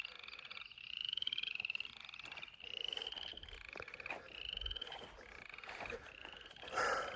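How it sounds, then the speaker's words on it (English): Frogs croak by a lake, with several rapid, rattling calls repeating in bursts, some overlapping. The calls are fairly faint and outdoors, with quiet pauses and a low rumble in between. "there's some frogs right there."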